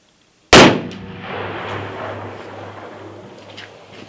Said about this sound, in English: A loud ass gun.